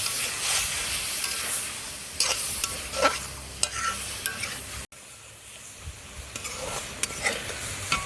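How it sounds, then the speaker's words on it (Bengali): Eggplant fries in spice paste for a Bengali tomato-and-eggplant pangas fish curry, giving a steady close sizzle broken by repeated scraping stirs of a spatula. There is a brief gap near the middle. "বেগুনটা আবার এই মশলার মধ্যে কষিয়ে নেব।"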